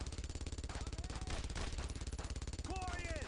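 Rapid machine-gun fire in a video game, a dense continuous rattle of shots that fills the clip at steady volume, with brief electronic whistling tones near the end.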